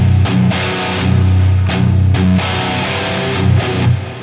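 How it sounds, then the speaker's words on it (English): Heavy distorted electric guitar through a Marshall amp modeled by an ML Sound Labs plugin, loud, with sustained chords and short gaps between riff phrases, played alone without talk. "So what I'm going to do is I'm going to turn my Mesa off and turn on this Marshall."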